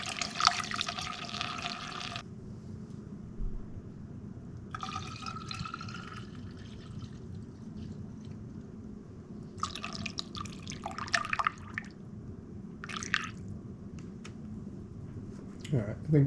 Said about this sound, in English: So as I was filling up the radiator, I started noticing some water here.